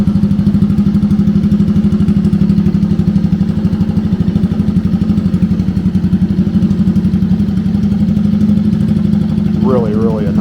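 A 1964 Honda Cub CA102 motorcycle engine with electric start idles close by with a steady, even putter, loud and unbroken throughout, with a brief clatter near the end.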